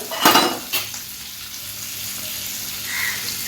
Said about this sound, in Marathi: ह्या तव्यामध्ये मी तेल घालते आणि तीन चार पापलेट सोडते म्हणजे फटाफट आपले पापलेट तळले जातील